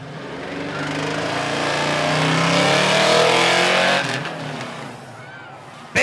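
Drag-racing vehicles, including a big truck on large tires, launch side by side at Rockford Speedway during night spectator drags, a loud sustained engine roar building for several seconds before easing off, close and dominant.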